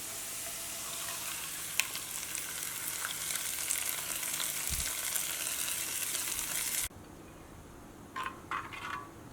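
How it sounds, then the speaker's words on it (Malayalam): Coconut pieces sizzle in hot ghee for payasam, a steady bright crackle for several seconds that drops suddenly to quiet, followed by a few light clinks and scrapes. "തേങ്ങക്കൊത്ത് വറുത്തിടാൻ വേണ്ടിയിട്ട് പോകട്ടെ കുറച്ച് നെയ്യ് ഒഴിക്കാം"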